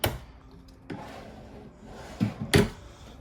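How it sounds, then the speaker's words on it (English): Drawers in the kitchen island of a 2025 Brinkley Model Z 3400 are pulled open, giving a few short wooden knocks and sliding thumps spaced across three seconds, close and fairly quiet, with no talking. "If we start opening some of this stuff up, you've got 3 more drawers."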